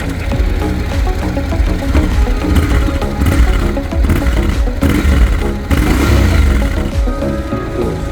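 A Honda X-ADV 750 motorcycle engine with its standard exhaust revs up and down in a few short bursts over a rumbling idle, loud and close.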